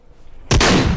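A minigun in the Hot Dogs, Horseshoes & Hand Grenades VR game suddenly opens up halfway through into a loud, continuous roaring stream of fire, close and dense, with no talk.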